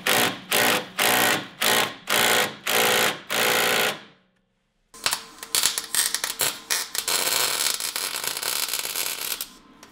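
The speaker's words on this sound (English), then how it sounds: "we figured that tack welding the bolt to the sprocket would be a surefire way of keeping the bolt from backing out of the sprocket" A bolt is tack welded to a sprocket: a series of short, loud buzzing weld bursts in a steady rhythm, then a brief silence and a rougher stretch of crackling and clattering.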